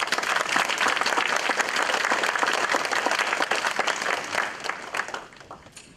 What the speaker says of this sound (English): can we give the students a round of applause?